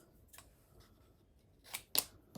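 Scissors trimming the nose-guard material on a homemade helmet, a few sharp crisp snips with the last two close together near the end, close by against a quiet room.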